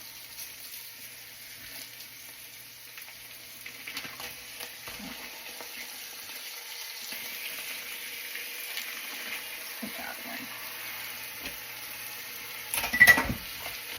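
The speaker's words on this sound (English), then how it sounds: "we're going to add in our ground beef" Two pounds of 93.7% lean ground beef browns with onions in a pan for chili, giving a faint, steady sizzle and hiss, with a brief louder clatter near the end.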